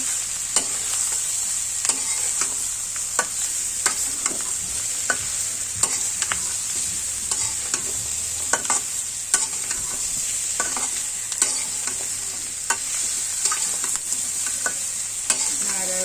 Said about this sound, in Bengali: লাল মুরগির মাংসটা আমরা পেঁয়াজ দিয়ে লাল পেঁয়াজের মুরগির মাংস ভাজা করব